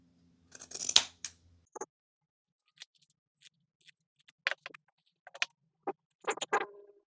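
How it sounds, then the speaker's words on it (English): Scissors trim fabric seam allowances on a round piped bag, starting with a burst of sharp snips followed by sparse, crisp single cuts and a quick cluster of clipping near the end, close and alone in a quiet room. "we're going to trim the seam allowances down by about half and clip into the corners"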